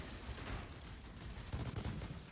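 Detonate Dead explosions in a video game, a quick cluster of several muffled blasts and rumbling bursts rather than one big hit, fairly faint and low in level.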